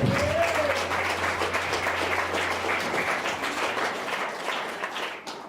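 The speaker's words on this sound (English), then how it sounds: "Could I please have a very big round of applause for Mr. Wayne McCarran." Audience applause fills a gala night hall at a natural bodybuilding competition in Canberra, sustained clapping from a sizable crowd, fairly even and dense, tapering slightly near the end.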